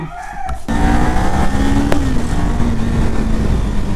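A Kawasaki Ninja 400 motorcycle engine starts up into a loud, steady close-up drone that holds evenly to the end, with no voices.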